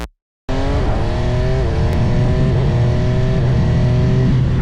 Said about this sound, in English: when you finally rev it out, it wakes up once again and screams like a supersport should